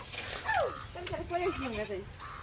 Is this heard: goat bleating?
yes